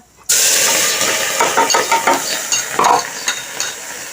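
Mustard seeds, cumin and green chillies hit hot oil with a sudden loud sizzle that holds steady, with sharp crackles and pops spattering through it as the seeds burst.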